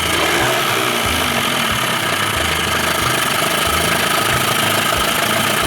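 A 2000 Johnson 25 hp outboard engine on a 13-foot Whaler idles steadily, a close, loud, even running drone with a faint regular low pulse and no talking.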